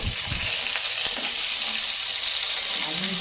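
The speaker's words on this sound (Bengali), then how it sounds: "এবারে আমি সর্ষা ফোড়ন দিয়েছি" Mustard seeds temper in hot oil for a vegetable and small-shrimp sour curry, a loud, dense, hissing sizzle with faint crackles, close and continuous across the whole moment.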